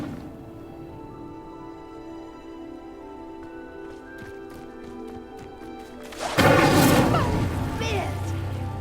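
In Hogwarts Legacy, an Incendio fire spell ignites pyres with a sudden loud whoosh and roaring burst of flame that follows a stretch of quiet game ambience and light chimes, then keeps crackling.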